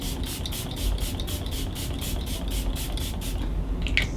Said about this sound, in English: for setting spray, we're using the Morphe Luminous setting spray.